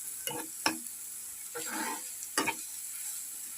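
Food frying in a pan, soft sizzling with a few distinct scraping stirs of a spatula at irregular intervals, quiet and close with no voices.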